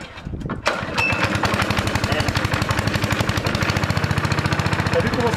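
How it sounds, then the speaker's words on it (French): A Honda four-stroke engine sputters and then catches, settling into a loud, rapid, steady putter that carries on close by. "T'as vu comment ça démarre le Honda?"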